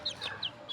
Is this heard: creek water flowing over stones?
no